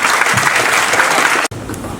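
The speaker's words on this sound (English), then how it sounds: "Shreya, round of applause." An audience claps for Shreya at a Fairfield by Marriott session, a close, loud burst of applause that cuts off sharply near the end and then resumes at a slightly lower level.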